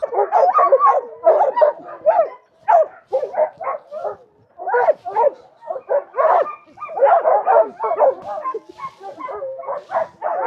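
Several Alaskan sled dogs bark and yip excitedly in rapid, overlapping bursts, close and loud, with brief gaps between volleys.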